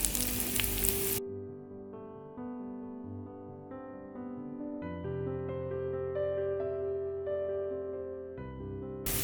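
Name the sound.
garlic and onion sizzling while frying in pan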